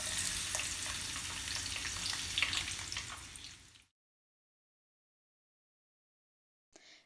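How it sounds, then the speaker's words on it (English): Oil crackles and sizzles steadily in a hot pan for several seconds before cutting to silence, and a short faint burst of sound returns at the very end. "Add some oil to a hot pan."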